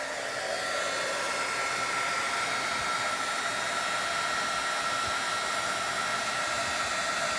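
A heat embossing tool blows hot air to melt embossing powder on a split-design card, making a steady, continuous hiss and whoosh close by with no talking.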